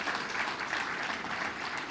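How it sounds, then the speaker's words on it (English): An audience claps in steady, dense applause at a speech event by Kenya's president, a continuous crackling wash heard from a moderate distance with no voices over it. "let's put a round of applause to Ababu na Mwamba"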